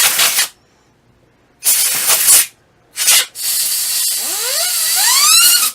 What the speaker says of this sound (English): we just grabbed the air compressor, compressed air, whatever you want to call it. Spray can.